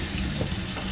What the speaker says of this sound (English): on the faucet, let the water run